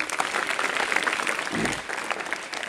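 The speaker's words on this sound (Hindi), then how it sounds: "ताली हो जाए इनके लिए।" An audience at a school talk on stress relief gives a short round of clapping, steady and moderately loud from start to finish.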